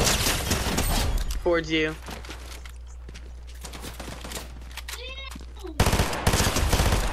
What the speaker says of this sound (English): There's gunfire.